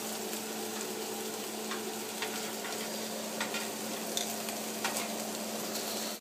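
Bison sliders cooking on a hot griddle give a steady, even sizzle that holds at a constant level throughout, with a few faint ticks and pops rising above it and no voices.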